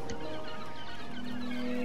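A bird that lays golden eggs clucks in the Broken Age video game, a few soft clucks over a steady tonal hum and faint background music.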